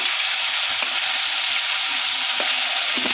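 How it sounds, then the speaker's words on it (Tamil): Vegetables with turmeric and chilli powder sizzle steadily in hot oil for sambar while a spoon stirs them now and then, a dense continuous crackle close up with no one speaking. "கிண்டி நல்லா ஒரு அஞ்சு நிமிஷம் நல்லா எண்ணெயில் வேகட்டும்"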